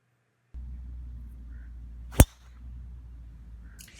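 A golf driver strikes a ball off the tee on a course during a round, one sharp, loud crack rising from quiet outdoor ambience, followed by a faint rustle.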